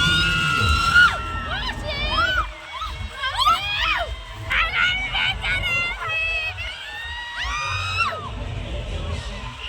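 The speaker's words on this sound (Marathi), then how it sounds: "सगळ्यात जास्त तू ओरडतीये." A crowd at a village fair shouting and whooping, with excited high-pitched cries and screams rising repeatedly over a dense babble of voices nearby.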